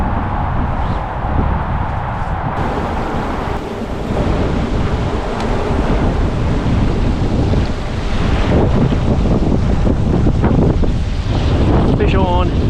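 Strong wind blows across open water during a mild-temperature fishing outing, roaring steadily into the microphone with waves sloshing beneath, loud and continuous throughout.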